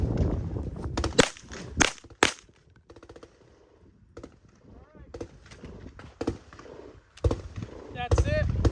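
Handgun fire at chest targets on a range during a 100-round torture test of a Mac5 LMF handguard, sharp loud cracks in quick bursts with pauses between, close and ringing, while someone talks through the gaps.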